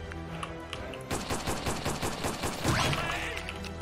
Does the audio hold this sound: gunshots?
yes